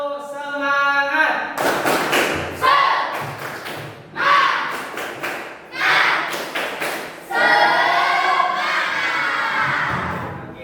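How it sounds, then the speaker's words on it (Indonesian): A class of schoolchildren does a 'tepuk semangat' cheer in a classroom, loud bursts of rhythmic group clapping in patterned beats alternating with shouted chanting voices, several short sections separated by brief pauses. "Tepuk semangat."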